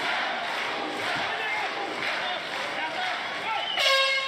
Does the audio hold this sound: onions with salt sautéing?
no